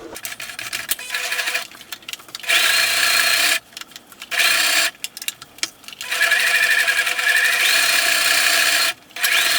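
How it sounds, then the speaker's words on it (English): A sewing machine stitches a straight seam on fabric for a tote bag, running in several long steady bursts broken by short pauses, close and fairly loud with no talking. "we want to start stitching, always using a back stitch at the start and sewing a straight line the whole way down"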